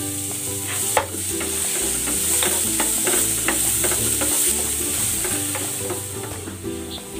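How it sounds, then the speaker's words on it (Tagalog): Garlic frying in cooking oil for a pork dish, a close, steady sizzle with rapid clicking scrapes of a utensil stirring in the pan and one sharp knock near the start, no talking. "Maglalagay ako ng mantika. Piprito ko muna itong bawang."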